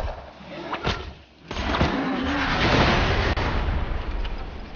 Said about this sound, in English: Explosion really wasn't necessary right there